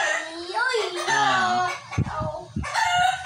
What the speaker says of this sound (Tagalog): nagalit tuloy ang aking manok